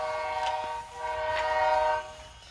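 BRIO Smart Tech toy train stopped at an action tunnel station, playing a steady electronic train-horn tone with bright harmonic hum, swelling and fading in short pulses, close and alone.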